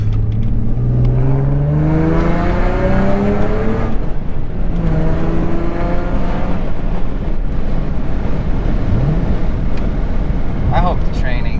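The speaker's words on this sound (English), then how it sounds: "this car is so much fun to drive" An Infiniti G35 drives along a road, its engine and road noise forming a steady, close drone with shifting tones as it accelerates and changes speed, and someone talks over it throughout.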